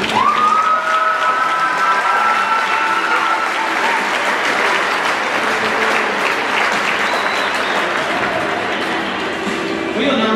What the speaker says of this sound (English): Let's give a round of applause for the senior class.